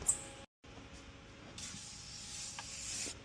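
A soft hiss of a spray bottle misting the inside of a car windshield during tint installation, with a brief pause and a second, longer spray near the end; quiet and close.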